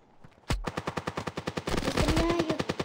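Rapid automatic gunfire from a video game, a long string of evenly spaced loud bursts that starts abruptly and carries on with a dense, sustained rattle.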